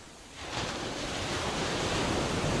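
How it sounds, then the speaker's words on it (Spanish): Sea waves roll onto a beach: after a brief quieter moment, a loud, broad wash of surf swells up and keeps roaring steadily to the end. "Es lindo el mar."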